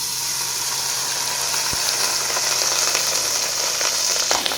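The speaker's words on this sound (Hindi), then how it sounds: "अब तड़के के अंदर मैं चावल शामिल कर रही हूँ।" Rice tipped into a hot tadka tempering in a cooking pan, giving a steady, loud hiss and sizzle that carries on throughout with a sharp clink partway through.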